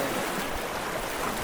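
Steady broadband rush of river water flowing at a crossing near Ar-Arbis Falls in Lagayan, Abra, a continuous close wash with no voices over it.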